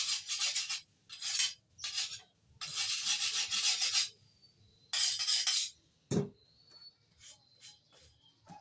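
Mineral fertilizer solution of phosphorus, calcium and iron being stirred for watering vegetables and plants, heard as repeated close scraping, rasping strokes in bursts with short pauses and a single knock partway through.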